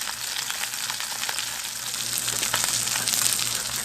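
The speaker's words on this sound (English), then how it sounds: "We want nice hot grease. We want to get a nice glaze on this fish." Whole carp frying in hot grease, a steady close crackling sizzle that holds evenly throughout and swells slightly louder toward the end, with no talking.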